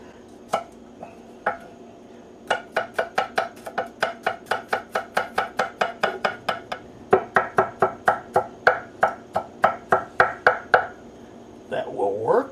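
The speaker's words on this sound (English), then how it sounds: "in the case of the garlic, finely minced" Knife finely mincing garlic on a cutting board, a long run of rapid, evenly spaced sharp chops, close and distinct, with a few isolated taps before and a brief shuffle at the end.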